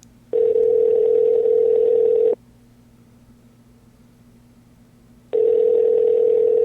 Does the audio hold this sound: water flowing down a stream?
no